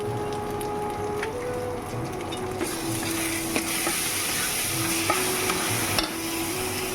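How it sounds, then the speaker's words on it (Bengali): Masala with tomato puree and Kashmiri chilli powder sautéing in a pan, a steady close sizzle under continuous stirring and scraping, with a faint tonal hum running through it. "এখানে একটু টমেটো পিউরি এবার এটাকে ভালো করে কষে নেব"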